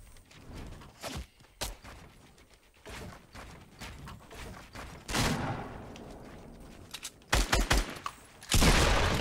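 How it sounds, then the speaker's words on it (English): Gunfire in the Fortnite Battle Royale video game, scattered sharp shots and thuds at irregular intervals with a louder cluster and a heavy blast toward the end, no one speaking. "Somebody sniping me, watch out."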